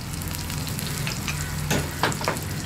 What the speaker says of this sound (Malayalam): അപ്പോൾ ഞാനിത് ഒന്ന് ഇളക്കി മിക്സ് ചെയ്യാണ്.